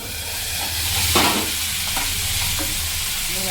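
Garlic hits hot oil for tempering, ahead of cooking radish greens, and gives a loud, close, continuous sizzle with a few scraping stirs and light clinks over it.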